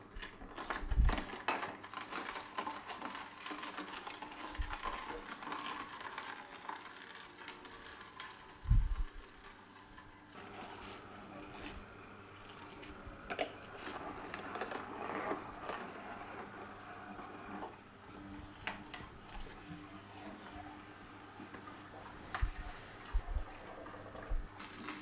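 A Sana Juicer 828 grinds carrots with a steady low mechanical churn and scattered crunches and thumps, moderately quiet and continuous throughout.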